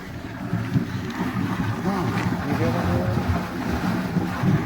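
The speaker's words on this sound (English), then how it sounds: "Hear the gush of water?" Water gushing from the outlet of a water treatment system on a riverbank, a steady rushing wash with wind buffeting the microphone throughout.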